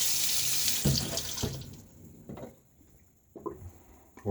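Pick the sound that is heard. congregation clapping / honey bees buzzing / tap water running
tap water running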